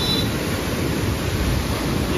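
Steady broadband rush of river water pouring through an open gate of the Koshi barrage in Nepal, a continuous loud roar with no breaks and no voices.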